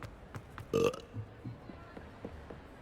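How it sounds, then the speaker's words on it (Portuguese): A character in Hogwarts Legacy lets out one loud, close burp near the start, followed by quieter in-game sounds and faint soft voices. "por isso é que ele está para aqui a arrotar"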